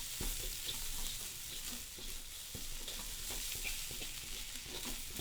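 Pineapple fried rice with egg and crab hisses in a hot pan while being stirred and tossed, a constant close sizzle broken by scraping strokes and soft clacks.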